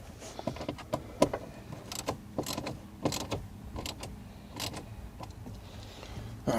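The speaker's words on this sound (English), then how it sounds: "Use the old wrench." A hand wrench works on a front speaker install in a 2016 Jeep Wrangler, giving irregular metallic clicks, ratcheting and creaks near at hand with short pauses between turns.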